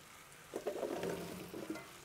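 Food being stirred in a Dutch oven pot on a grill, a few soft scraping and sizzling strokes close by, quiet and brief, with no talk.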